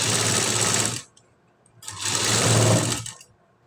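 A sewing machine stitches in two bursts, each about a second long, with a short pause between, close and steady while a stitch is laid for neat front dots on a garment.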